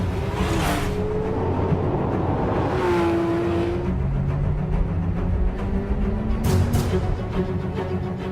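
A 2016 Porsche 911 R's 500-horsepower engine, revving toward 8,500 RPM, rises in pitch in several loud surges, then drops back, continuing steadily throughout.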